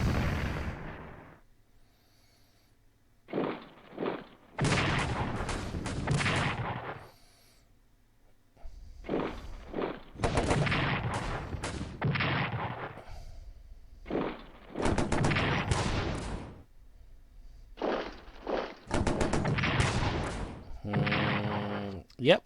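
Artillery fire in a World War I strategy game set around the Verdun, Reims, Sedan and Ardennes front, heard as repeated loud booming bursts in clusters and separated by short pauses, mixed in with talking.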